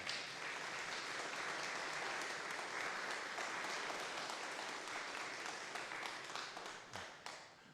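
A church congregation claps to welcome a guest during a Sunday worship service, a soft, steady patter of applause in a large room that thins out into a few scattered claps near the end.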